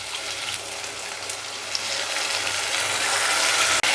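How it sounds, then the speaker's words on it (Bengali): Water poured from a rinsed container into a pan of spices while cooking a vegetarian moong dal bora jhol: a steady, close splashing and trickling rush, continuous throughout with no talk, ending in a sharp click. "এবার কন্টেনারটা ধুয়ে একটু জল দিয়ে দেবো।"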